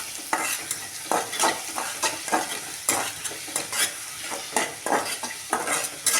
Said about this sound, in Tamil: வெங்காயம் நல்லா வதங்கிட்டு கண்ணுக்கே தெரியாமல்